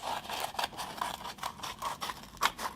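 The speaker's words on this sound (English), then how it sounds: "we can just take our scissors, and we can just kind of cut that off" Scissors snip through excess paper during a preschool bee craft, a close, quiet run of rapid rhythmic crisp cuts and scrapes, with no talking.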